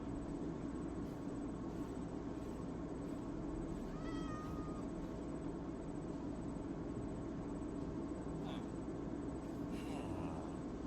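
Cat meowing in a video game, a couple of short mews in the middle and near the end over a constant rumbling, train-like background drone, with no other voices.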